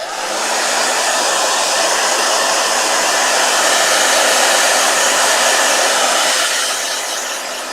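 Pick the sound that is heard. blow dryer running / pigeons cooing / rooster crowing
blow dryer running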